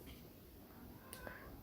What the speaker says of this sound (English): The cat wants inside my room.